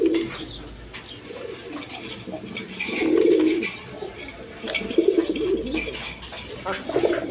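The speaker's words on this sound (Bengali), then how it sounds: "এখানে এক পেয়ার কালারিং রাসগোল্লা কবুতর আছে" A pair of coloured rasgolla pigeons coos nearby in several short, soft bursts spaced a second or two apart, over quiet background noise.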